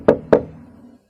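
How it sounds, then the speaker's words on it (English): Two sharp knocks on a door, close and loud, spaced about a quarter second apart, each with a short resonant ring that fades before silence. "I went along the corridor to her room and knocked."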